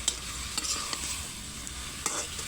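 A fish, potato and tomato curry sizzles steadily in a pan while a utensil stirs it, producing several sharp scraping clicks against the pan over a constant frying hiss, close and fairly loud.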